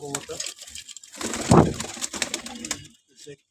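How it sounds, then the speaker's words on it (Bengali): Black-necked pigeons coo in low, throaty murmurs nearby, with a voice talking over them and some light tapping and shuffling in the background. "এটা হচ্ছে কালো গলা কবুতর"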